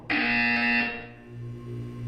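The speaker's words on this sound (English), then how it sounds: "When you hear the buzzer, look down at the floor." A loud electronic buzzer from the video game Portal 2 sounds once for just under a second, harsh and tonal, then fades to a low hum.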